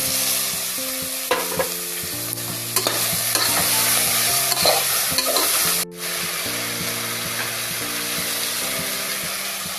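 Green chillies, bay leaf and paneer frying for veg pulao, a loud steady sizzle with repeated scraping and clatter of a spoon against the pan, one brief dip midway, over faint background music and no talking.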